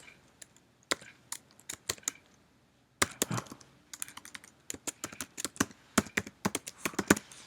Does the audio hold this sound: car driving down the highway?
no